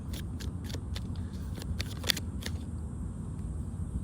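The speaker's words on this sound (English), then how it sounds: "Let me just shuffle and see what else wants to come out." Tarot cards are shuffled in a quiet room, a series of quick crisp riffling snaps, soft and close.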